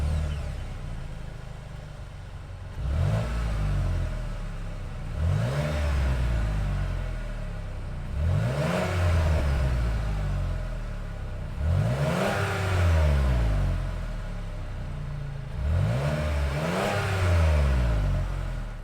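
A 3.6-liter V6 engine in a 2022 Cadillac XT6 Sport revs repeatedly, about five rising and falling surges of roughly three seconds each, loud and close, with no talking.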